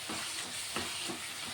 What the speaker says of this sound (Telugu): టమాటాలు అయితే చక్కగా ఉడికిపోతున్నాయి. సరే కలిపేసుకుందాం.